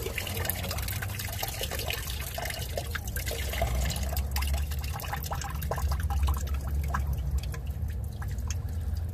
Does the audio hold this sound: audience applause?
no